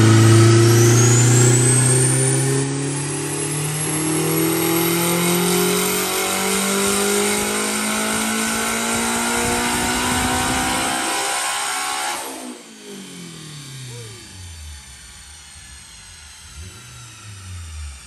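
A turbocharged, K-swapped Honda Civic EF sedan engine revs hard and holds at high pitch, loud and close, then cuts off and drops to a rumbling idle with a brief blip.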